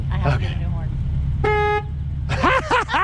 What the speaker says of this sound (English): Listen to the horn. I have to get a new horn.